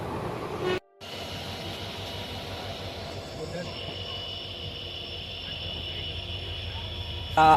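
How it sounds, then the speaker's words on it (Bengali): A steady rumbling rattle of a moving train leaving Ranaghat fills the whole clip, with a brief dropout early on and a sharp tone at the end. "রানাঘাট থেকে আমাদের ট্রেনটা ছেড়ে দিল"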